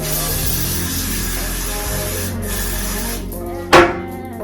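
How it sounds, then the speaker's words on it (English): A short, sharp burst of hair spray hisses briefly near the end, over a steady background hiss and low hum. "I'm gonna take the spray again to seal it."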